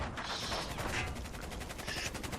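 Rapid automatic gunfire from a military aircraft in the video game Battlefield 4 rattles in a dense, continuous burst, loud and close throughout.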